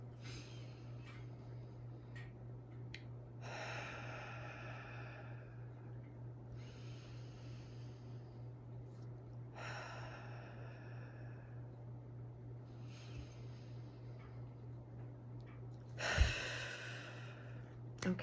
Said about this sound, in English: We'll take 3 deep breaths in and out.